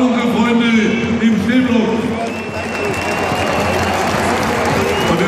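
Ice hockey crowd at an Adler Mannheim versus Krefeld Pinguine game clapping and cheering in a large arena, a loud sustained roar while an announcer speaks over the stadium sound system.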